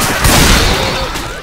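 Dense, loud, close gunfire fills a Left 4 Dead 2 co-op match as overlapping shots blend into a continuous barrage with booming low end. Players shout over the shooting.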